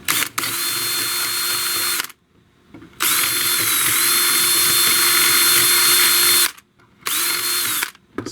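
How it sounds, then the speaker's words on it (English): A small power drill runs in the holes of an old wooden chair to clear out old glue, whirring loudly in three sustained bursts separated by short pauses, close up with no talking. "a little bit of drill action, smaller drill than what the hole is actually"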